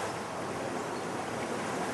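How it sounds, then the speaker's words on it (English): Water trickling and moving steadily through a fish-egg hatchery setup to keep it oxygenated, a continuous broadband rush with no breaks, fairly loud and alone. "The water is trickling over, moving, keeping it oxygenated"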